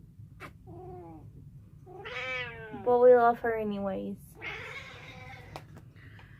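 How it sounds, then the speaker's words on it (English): A pet cat named Pumpkin meows a few times close by, drawn-out cries rising and falling, heard between and under a woman's soft speech against a low steady hum. "This is my kitty cat"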